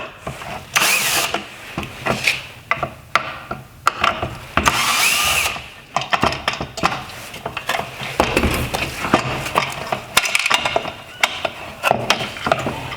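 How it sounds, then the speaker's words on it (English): Phillips head screws being driven out of a 2014-2016 Toyota Corolla LED headlight with a power driver, several short whirring bursts separated by pauses and small clicks and handling noises, close up. "I'm going to remove the 2 Phillips head screws holding in the turn signal reflector."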